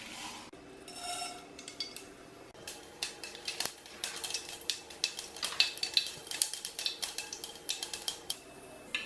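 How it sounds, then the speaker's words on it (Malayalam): Mustard seeds spluttering and popping in hot oil in a pan, a rapid irregular crackle of sharp pops that grows denser and louder as it goes on, with no voices. "ഇനി ഇതിലേക്ക് കുറച്ച് കടുക് ഇട്ട് കൊടുക്കുന്നുണ്ട്."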